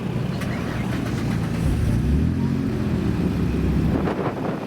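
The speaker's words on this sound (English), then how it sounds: "This Noble is lovely. It's got that acid green." An acid green Noble sports car pulls away from a car show meet, its engine a loud, steady rumble close by that swells slightly as it drives off, with no talking.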